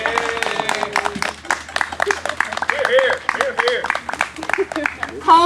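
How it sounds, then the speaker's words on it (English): A room of senators applauds, scattered clapping and crowd noise mixing with loud, cheerful talk and laughter at a live comedy show. "Senators applaud."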